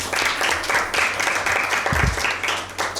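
Audience at a Bible quiz applauds for a correct answer, a steady broadband patter of many hands clapping across the whole stretch with no talk over it.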